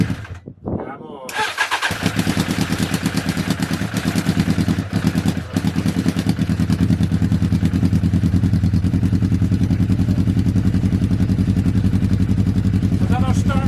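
A Honda Fireblade motorcycle running on only three cylinders cranks over and fires up, then settles into a loud, close, uneven idle; someone talks over the engine noise.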